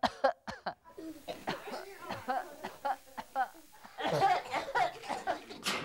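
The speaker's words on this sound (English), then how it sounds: "How do we cough, Elmo? Like this." A person coughs in several short sharp bursts, close by, followed by breathy chuckling sounds.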